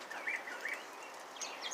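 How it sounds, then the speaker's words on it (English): Birds sing outdoors on a rainy morning, faint high chirps and short whistled phrases over a soft, steady background hiss. "See, listen to the birds."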